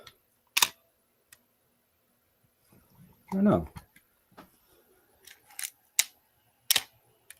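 An old film camera's shutter set to 1/1000 second fires in several sharp, quick clicks spread across the stretch, with a short spoken phrase in between and quiet room sound otherwise.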